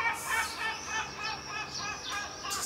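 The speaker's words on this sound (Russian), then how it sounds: "Тут чайки орут" Seagulls cry repeatedly somewhere in Turkey, a string of raucous, wavering calls coming in quick bursts at moderate distance, with no voices.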